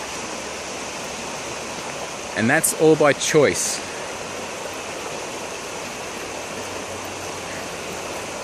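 Flowing river water rushes as a steady, broad wash of noise throughout, with someone speaking briefly over it midway.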